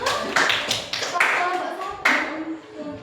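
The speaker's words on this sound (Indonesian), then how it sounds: "tepuk tangan kelompok 1" A class of students in an Indonesian junior high science lesson clap for group 1, several sharp bursts of hand claps close by, with children's voices mixed in.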